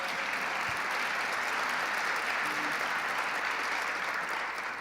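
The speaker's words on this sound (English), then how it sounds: "Let's give him a big round of applause" Steady, even applause from a large audience at a business association event, a continuous wash of clapping that holds a constant level the whole time.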